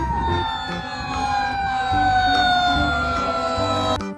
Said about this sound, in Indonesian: Ternyata ini mobil pemadam kebakaran.